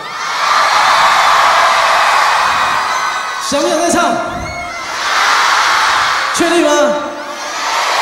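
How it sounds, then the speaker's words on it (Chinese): A stadium crowd at a concert screams and cheers in a loud, continuous roar that swells and dips, while a performer talks to them over it. "最后一首歌曲通常呢，都会听到一点尖叫声哦"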